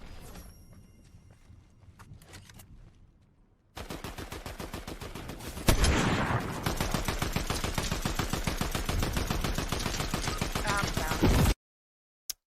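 Rapid automatic gunfire in a Fortnite-style video game fight, dense rhythmic bursts after a quieter stretch of footsteps and scattered shots, loud and close, then cutting off abruptly.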